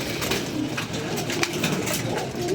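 Pigeons coo steadily in soft repeated low calls over a constant background hum.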